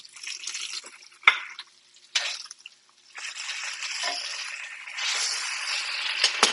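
Endive searing in a hot pan, giving a bright sizzle that comes in bursts, drops out briefly, then returns louder and steadier.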